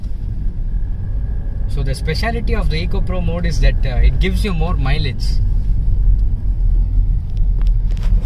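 A BMW 320D diesel sedan cruises through city traffic in Eco Pro mode, its low engine and road rumble steady underneath someone talking throughout.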